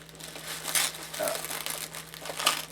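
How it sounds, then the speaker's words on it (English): A cardboard subscription box package is ripped open up close, giving bursts of crinkling and tearing that come and go over a few seconds, fairly quiet. "Let's just rip it open."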